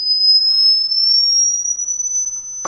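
A steady, high-pitched sine tone that creeps slightly upward in pitch, holding continuously for a few seconds before a short noisy burst at the end.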